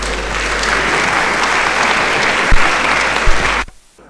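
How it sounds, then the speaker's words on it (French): Steady applause from an audience at a gala evening of the African Group at UNESCO, a dense, even clapping that carries on for several seconds and then cuts off sharply. "Merci de l'applaudir."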